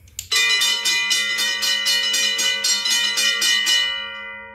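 A Modern Industries electric bell rings close and loud, its clapper striking in a fast, even rapid-fire series for about four seconds before stopping and leaving a short decaying tone, with no talking.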